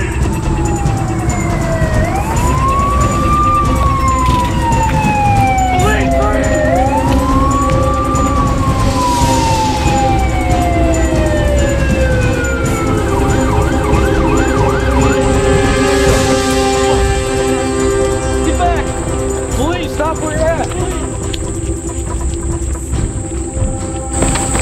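Police car sirens wail loudly and continuously, their rising and falling tones sweeping over a steady rumble and a high insect-like chirping, with no talking.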